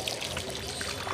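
Water trickles and pours over a thick beard during wudu ablution, a close, steady splashing and dribbling that runs continuously without a break.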